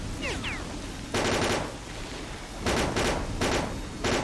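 Automatic-weapon bursts in S.T.A.L.K.E.R.: Clear Sky, a game, rattle out in several short, loud volleys with brief gaps between them.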